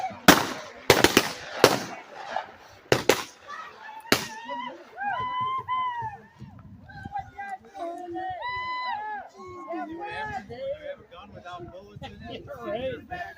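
Gunshots at a lumberjack camp show ring out as several sharp loud cracks early on, then give way to a crowd and performers talking and shouting.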